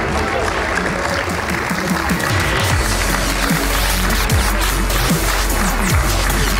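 A live crowd at the MLG X Games Aspen 2015 Counter-Strike: Global Offensive gold medal match applauds the silver and gold medalists in a dense, sustained roar of clapping, loud and continuous, with an announcer's voice over it.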